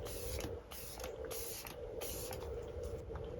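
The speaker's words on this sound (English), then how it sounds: "So I'm just gonna use the Benefit Professional Super Setter and give this face a couple spritzes." Benefit Professional Super Setter setting spray is spritzed onto a face in several quick, soft bursts with a pump's faint mechanical click, close and quiet.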